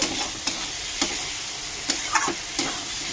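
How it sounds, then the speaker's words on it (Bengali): Peas and potatoes fry with spices and ginger-garlic-onion paste in a pan for a paneer curry, with a steady sizzle punctuated by about six sharp, evenly spaced stirring clacks and scrapes of a spoon, close and alone. "ভালো করে মশলা দিয়ে মটর আর আলুটা ভাজা হয়ে গেছে।"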